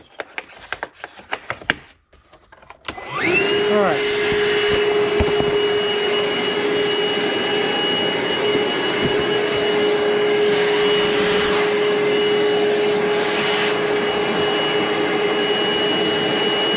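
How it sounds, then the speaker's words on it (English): A vacuum cleaner switches on after a few knocks and clatters during a cabin window installation, then roars loudly and steadily close by with a sustained whine. "Where's my vacuum? On. About to suck these guys up."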